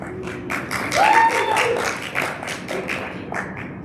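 Audience applause for student award winners at a leadership awards ceremony, a steady wash of clapping with a brief whistle-like tone over it, moderately loud and continuous.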